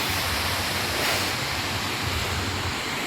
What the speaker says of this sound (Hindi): यहाँ से सारा पानी निकल आता है।